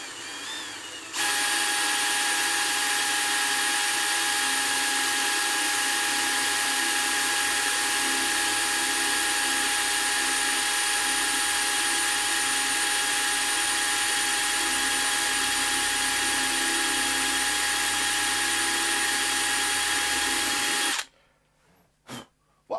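A power drill with an undersized-for-the-job bit whines steadily and loudly for about twenty seconds, boring through a 12-string guitar bridge, then stops suddenly, followed by a few faint clunks.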